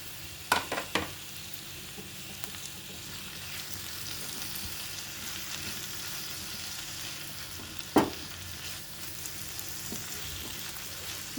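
Two medium-sized chopped tomatoes go into a hot pan of moong dal and amaranth leaf curry, setting off a continuous moderate sizzle with a few sharp clatters of spoon against pan.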